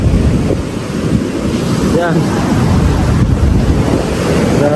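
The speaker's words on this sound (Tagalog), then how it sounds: "tingnan nyo po yung alon" Loud, roaring ocean surf whipped up by a typhoon crashes continuously, with heavy wind buffeting the microphone and a short spoken word partway through.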